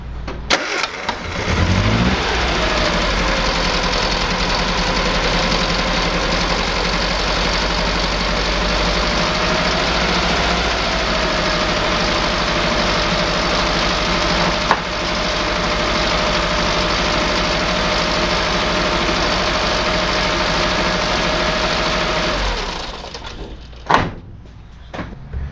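Engine of a Mini panel van cranking briefly and catching after repair work on the alternator, starter and belt, then settling into a steady close idle for about twenty seconds before shutting off, with a few clunks at the end.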